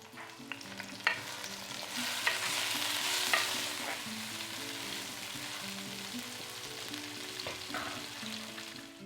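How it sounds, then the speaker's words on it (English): Food stir-fries in oil over a low flame, a gentle steady sizzle with occasional louder clinks and scrapes of a spatula against the pot. "stir fry in some oil for I would say till it's a bit crispy on outside"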